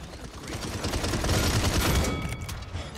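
A burst of rapid video game gunfire in Paladins, dense crackling shots rolling together over a few seconds, fairly loud with no talking.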